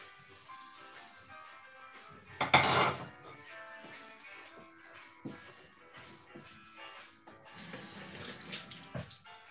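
Water runs from a kitchen tap while a pan used for deep-frying tempura is rinsed and scrubbed, with a loud gush of water, scattered clinks and scrapes of the pan, and a second burst of running water near the end.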